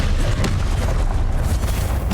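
Confringo blasting curse going off in Hogwarts Legacy, a dense, booming rumble of explosion noise that stays loud and thick for the whole two seconds.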